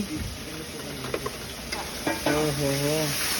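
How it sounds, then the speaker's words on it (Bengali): Masala spices, including chili paste and ginger, sauté in a pan for a fish curry with yogurt, crackling and sizzling with clanks of stirring; faint voices occasionally sound beneath. "দেখুন এখন কিন্তু মশলাটা কষানো চলছে"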